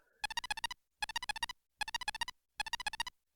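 Pager from the video game Phoenix Wright: Justice for All beeps in four quick bursts of rapid electronic chirps, each burst of about six tones, separated by short silences, loud and close with no voices.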